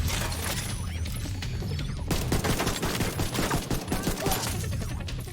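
Rifle gunfire in the video game The Division 2: dense, rapid bursts of shots and mechanical clatter fill the whole stretch at steady loudness, with no voices over them.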